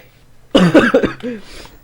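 A single sharp cough bursts out close and loud, followed by a short throaty tail, after a brief quiet moment.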